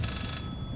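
A telephone in the horror game Layers of Fear rings with a steady, bright electronic tone that fades partway through, over a low rumbling background.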